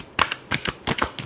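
Tarot cards are shuffled in three quick crisp bursts of riffling flicks, close and fairly loud, separated by brief pauses with no talking.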